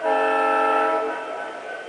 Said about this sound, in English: The locomotive features ditch lights, which oscillate when the horn blows. I can do that right now.